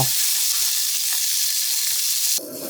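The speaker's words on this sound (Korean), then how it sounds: "중약불로 달군 팬에 꽈리고추를 넣고 굽듯이 볶아주세요." Shishito peppers stir-frying in a pan heated over medium-low, a loud, dense, continuous sizzle heard close that drops off sharply near the end.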